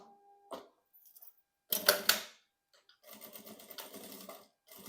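A sewing machine stitches a fabric panel for a small pouch in short, close bursts of rapid mechanical whirring separated by brief pauses.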